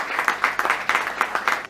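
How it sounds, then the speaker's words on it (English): An audience claps at a sports games draw and launch event, a short burst of quick, rhythmic hand claps that is fairly close and even in loudness, with no talking over it. "A round of applause,"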